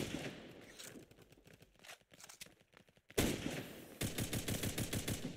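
Video game gunfire comes in rapid bursts of automatic shots, sparse at first and then dense and loud, with short pauses between volleys.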